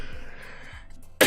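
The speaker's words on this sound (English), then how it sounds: "I've been coughing a lot." A person coughing, a couple of short low throat bursts followed by a sharp loud cough at the end, close up.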